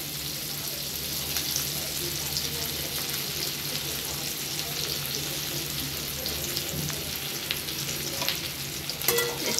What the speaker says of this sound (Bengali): একটু সটে করে নেব।